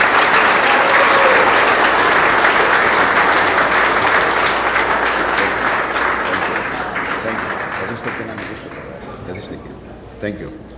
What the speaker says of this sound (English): Please give a warm round of applause to the man who made this happen, Paul Katrotsios.